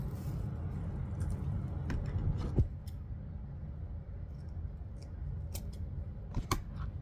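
Scissors snip through ribbon for a DIY bow, a handful of crisp, close cuts in separate bursts over soft background rustling.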